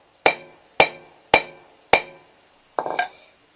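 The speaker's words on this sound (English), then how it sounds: "so now this is called a 3D stamp, so you place that on. And then you put this hammer, this handle, on top of it." A hammer strikes the handle of a 3D floral stamp into handmade leather: four sharp, evenly spaced taps, then a fifth slightly rattling blow, close and distinct.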